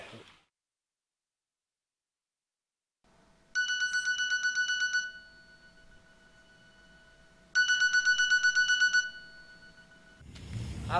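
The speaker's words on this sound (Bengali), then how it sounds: "আমি একটু ফোন করে লই" A phone rings out in two electronic bursts of a few seconds each during an outgoing call, set in a Bangla TV drama, separated by near silence and a faint low hum, with no one speaking.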